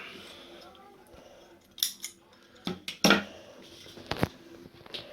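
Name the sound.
scissors snipping off wire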